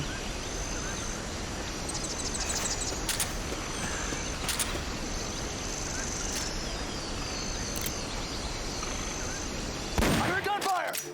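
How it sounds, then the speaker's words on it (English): Gunfire in the Metal Gear Solid: Peace Walker video game, a few sharp shots and short bursts over a steady game ambience of insects and birds, with a louder burst near the end. "I heard gunfire!"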